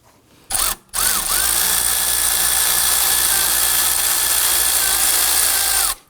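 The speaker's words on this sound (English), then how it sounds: "Let's go ahead and loosen up this 12mm adjuster bolt right here" Power tool loosening a 12mm adjuster bolt on a 2005-2009 Subaru Legacy 2.5L H4, a close, loud, steady whirring run of about five seconds after a brief initial burst, with no talk.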